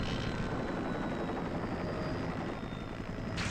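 Helicopter in Ninja Gaiden Sigma at a military base level, a steady loud rotor drone with engine whine running continuously throughout, no talk over it.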